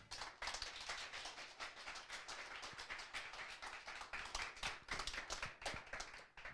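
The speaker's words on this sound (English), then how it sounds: "can I get a round of applause" An interview audience claps to welcome a real-estate guest, a steady round of hand applause lasting several seconds with no talking over it.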